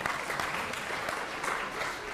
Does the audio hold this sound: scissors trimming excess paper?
no